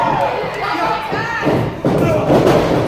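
In a TWF wrestling match, a wrestler slams down onto the mat after a clothesline, giving a brief dull thud under a cheering, shouting crowd and a commentator's voice.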